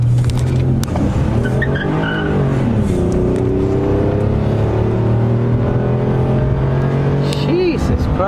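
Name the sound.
V6 car engine accelerating during a car pursuit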